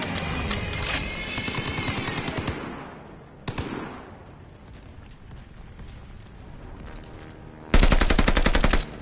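Gunfire in Call of Duty Vanguard: rapid machine-gun bursts at the start, a single sharp shot midway, then a louder close burst near the end over background battle noise.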